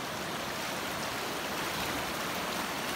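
A swollen river after heavy rains in upstate rural land rushes steadily at dusk, a dense continuous roar of water with no pauses, close and fairly loud, with no voices.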